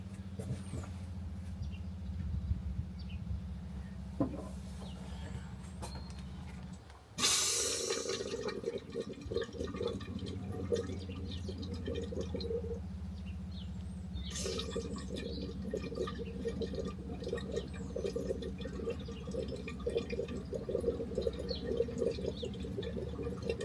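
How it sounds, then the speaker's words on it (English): Water gurgles and trickles through the hot water system of a self-built VW Crafter camper van, a steady low bubbling with a sudden louder rush partway through and continuing drips and flow sounds. "There's a lot of gurgling going on."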